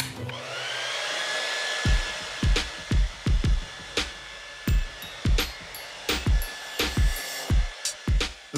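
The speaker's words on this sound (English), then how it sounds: "this is the smartest hairdryer ever built" A Dyson Supersonic hair dryer runs with a steady airy whoosh for about two seconds, then a quick series of sharp clicks follows, fairly close by.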